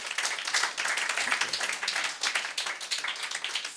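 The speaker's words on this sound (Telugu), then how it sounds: "చప్పట్లు కొట్టి దేవునికి స్తోత్రం." A church congregation at a Sunday service claps in praise, a dense, continuous patter of many hands that swells and eases slightly over a few seconds.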